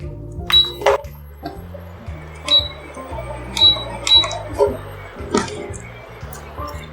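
Garlic, onion and whole unpeeled carrots drop into a pot for homemade vegetable broth, making several sharp clinks and knocks at irregular intervals close by, with a voice speaking between them.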